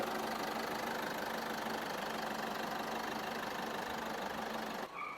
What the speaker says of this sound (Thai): เครื่องยนต์เสียงนิ่งๆเลยค่ะพี่เครื่องไม่สั่นนะคะ